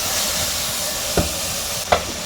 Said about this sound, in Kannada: ಒಂದು ಸ್ವಲ್ಪ ಕೊತ್ತಂಬರಿ ಹಾಕ್ಕೊಳ್ತಾ ಇದ್ದೀನಿ, ಅದನ್ನು ಎಣ್ಣೆಲೇ ಹುರ್ಕೊಳ್ಳೋಣ.